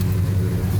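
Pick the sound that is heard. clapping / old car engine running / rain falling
old car engine running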